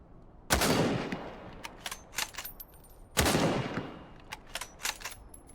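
Gunfire from a weapon in the survival video game Dead Matter, two sharp loud shots a few seconds apart, each followed by a long fading echo and scattered smaller cracks.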